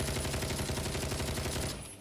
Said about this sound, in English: We're doing cocaine and shooting guns.